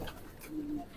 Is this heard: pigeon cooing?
yes